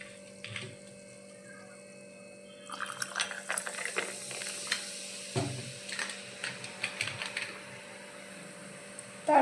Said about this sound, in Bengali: তারপর এটাকে চামচ দিয়ে এভাবে ঘুরে নেব।